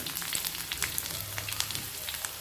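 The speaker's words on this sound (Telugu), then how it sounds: "ఆ నూనెలోనే కొన్ని వెల్లుల్లిపాయలు చితకొట్టి వేసుకొని" Crushed garlic cloves sizzle in hot oil in a deep pan, a close, continuous crackling hiss dotted with small pops, and no voices.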